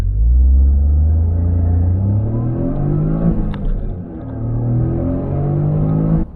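A Toyota GR Corolla fitted with a throttle controller pulls away in first gear, its engine rumbling loud and close as revs rise, dip and climb again in cabin-heard surges.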